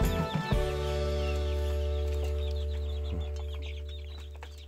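Chickens cluck in short, scattered bursts inside a coop over a loud, steady low hum, the birds fairly close.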